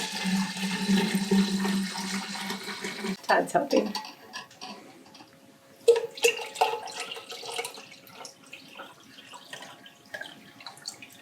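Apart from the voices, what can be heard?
pouring tea into a kombucha vessel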